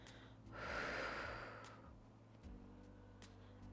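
A single long, breathy exhale during a slow seated exercise, rising and fading over about a second and a half, close and fairly soft, followed by quiet room tone.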